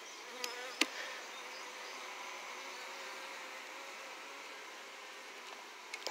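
Honey bees buzzing around a nearly full hive, a steady dense drone that fills the whole stretch, with a couple of faint taps early and late.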